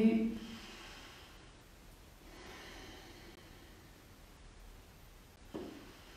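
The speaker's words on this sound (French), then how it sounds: "prenez les 3 dernières respirations avec un ventre" Slow, deep breaths during a family yoga session, soft airy inhales and exhales spread over several seconds, faint and close, ending with a brief louder sigh-like breath.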